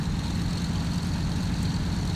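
A Brewster Buffalo's propeller engine roars at full throttle during takeoff in the X-Plane flight simulator, a steady, loud, unbroken drone with no voices.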